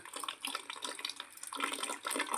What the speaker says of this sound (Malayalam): ഇതാ വെള്ളം വരുന്നുണ്ട് ക്യാനിലേക്ക്